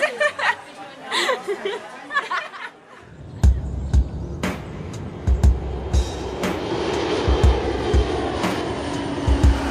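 A fixed-wing airplane comes in to land, its engine roar building into a rising, sustained rush after some earlier scattered chatter and knocks, heard from moderately close.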